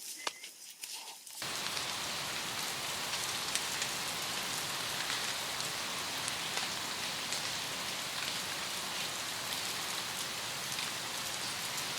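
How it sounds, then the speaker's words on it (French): Steady, dense rain falls outdoors, a loud, continuous hiss of drops that starts abruptly after a short quieter moment and then holds for the rest of the clip. "En plus, il pleut."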